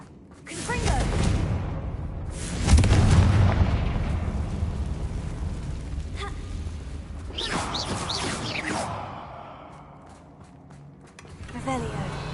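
Confringo blasting spell exploding in Hogwarts Legacy, a loud booming blast with rumbling debris that swells and fades, followed by further crashes and whooshes nearby.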